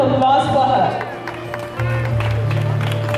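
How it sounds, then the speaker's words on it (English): A school annual day audience applauds an award-winning student, with a crowd of hands clapping beneath music and scattered voices, and the clapping holding steady across the moment. "A big round of applause for her."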